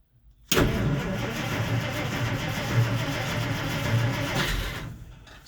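A 1958 Dodge Power Wagon W200 3/4 ton truck engine cranks, then catches and runs. A sudden loud start settles into a rough, uneven idle for several seconds before cutting off, up close with no talk.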